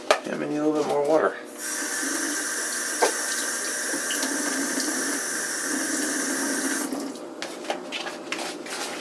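A kitchen tap runs steadily into a sink for several seconds, a close, constant hiss and splash; a brief voice comes just before the flow starts and the water shuts off near the end.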